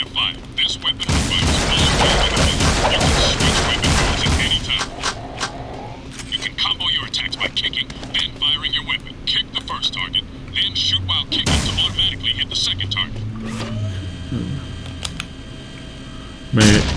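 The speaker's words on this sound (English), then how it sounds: "Blaster's a good all-around choice with a nice rate of fire." Blaster fire in Jak 2 on PlayStation 3, a rapid burst of repeated shots over busy game sound, then scattered blasts and effects later on.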